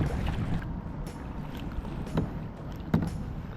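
A solo kayak is paddled on water, with soft splashes and paddle strokes recurring every second or so under steady wind rumble, quiet and close.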